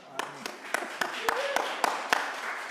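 A small Sunday church service congregation claps in about eight slow, evenly spaced claps, with quiet voices underneath.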